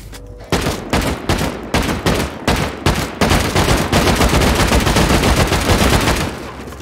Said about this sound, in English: I forgot the explosive ammo is exploding.